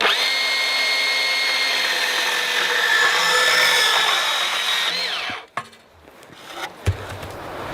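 A Makita XBP02 18-volt cordless portable band saw cuts through 3-inch ABS pipe with a steady, loud whining buzz. After about five seconds it winds down, followed by clunks of the cut pipe being handled.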